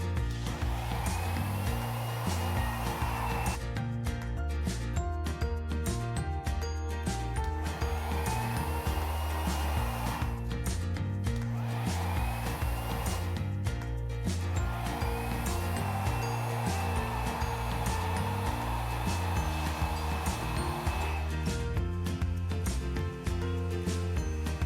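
Hair dryer blasting at the roots during a blowout, a loud, constant whooshing roar with a slightly shifting tone as it moves through the hair, with background music playing throughout.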